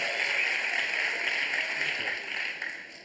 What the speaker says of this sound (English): Not sure why you're applauding.